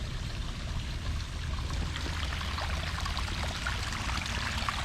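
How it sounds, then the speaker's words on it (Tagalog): Steady rushing rainwater pours and streams continuously into a drainage canal, a fairly loud, even flow with a low rumble underneath and no voices. "Yun, may tubig talaga, oh. Galing dun sa pinaka-tuktok."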